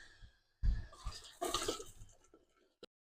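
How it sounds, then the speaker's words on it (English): Water is poured into a canning pot in close, uneven splashing gushes that trail off, ending with a single small knock. "I'm going to add this water."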